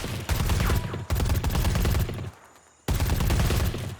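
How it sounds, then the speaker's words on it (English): Rapid automatic gunfire in Predator: Hunting Grounds, shots aimed at tree branches; dense bursts of loud shooting with a brief pause near the end before firing resumes. "you're going to go up to a few trees and you're going to shoot them"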